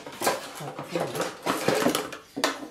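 A slotted spoon stirs home-brew mash in a pot, giving a few clanking scrapes and knocks against the metal. Someone talks over the stirring.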